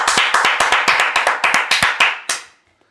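Studio hosts clap their hands in a quick, steady run of about a dozen sharp, close claps, which stop abruptly and leave silence.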